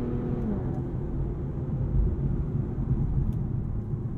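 A 2023 Infiniti Q50 Red Sport sedan cruising at moderate pace, its steady low engine and road rumble filling the cabin evenly throughout with no talk.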